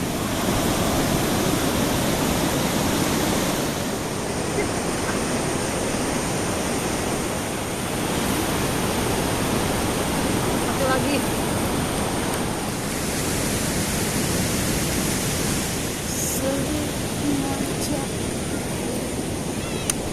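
Surf at Citangeuleuh beach in Garut, a dense continuous wash of breaking waves with gentle swells in loudness, loud and close, faint voices now and then.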